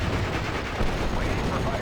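Machine gun fire and heavy battle noise in Steel Division: Normandy 44 on Utah Beach form a dense, continuous roar of shots and rumbling blasts, with a voice speaking over the din.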